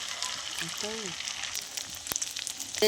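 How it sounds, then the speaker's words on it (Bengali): Omelette of egg with carrot, tomato and coriander frying in a pan of added oil, a steady soft sizzle throughout with brief voice sounds and a clatter near the end. "আর একটু আমি তেল দিয়ে দিলাম, আরও একটা বানিয়ে নিচ্ছি"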